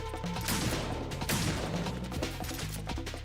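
Shotgun blasts and crashing impacts in Metal Gear Solid 2 pound out in a loud, cluttered burst over a steady musical drone, close and harsh.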